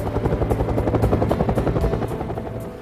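A Huey helicopter flies steadily, its rotor blades giving a continuous rhythmic whop over an engine drone, loud and close throughout.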